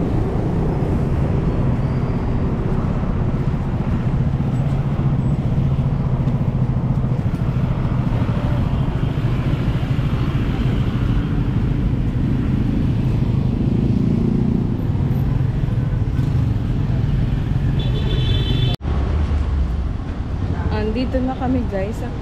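Busy street traffic on Buendia in Manila: a continuous rumble of cars and motorcycles passing close by, with people talking over it throughout.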